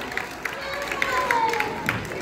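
Audience clapping for a girl named Sapna Kumari at a classroom quiz, steady scattered hand claps throughout, moderately loud and close.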